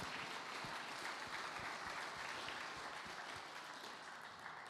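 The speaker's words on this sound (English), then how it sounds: "Let's give them a round of applause" Faint, distant applause from an audience at a benefit auction, a steady wash of clapping heard from afar for several seconds.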